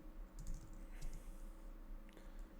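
Fingers type on a computer keyboard at a quiet desk, soft clustered key clicks in short irregular bursts, close and faint.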